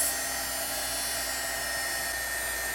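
A heat gun blows hot air to melt embossing glitter on a stamped star for a papercraft background, giving a steady, close, high-pitched whirring hiss that runs evenly from start to end with no talking.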